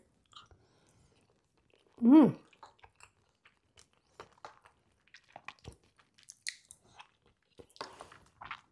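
Close, moist chewing of cooked ground meat with leftover sausage, with scattered wet smacks and crunches in a quiet room, after a brief vocal sound near the start.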